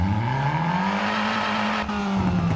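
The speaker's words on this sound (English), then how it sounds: "I like the engine sound" A car engine in the racing video game Racing Kingdom revs steadily, its droning tone rising and falling slightly, loud and close with no other sounds over it.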